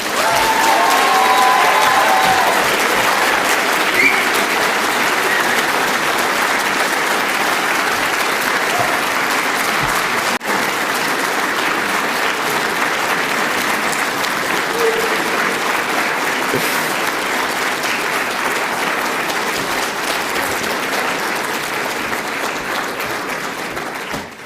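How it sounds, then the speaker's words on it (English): Loud, sustained applause from a large audience at an Aston University graduation ceremony, a dense wash of clapping that holds steady for over twenty seconds before easing slightly at the end. "Please give them a huge and rousing round of applause."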